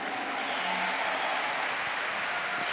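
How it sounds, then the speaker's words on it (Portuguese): Audience applause at a religious gathering, a steady, fairly faint wash of clapping from a crowd lasting the whole few seconds with no voices over it. "Uma salva de palmas para vocês."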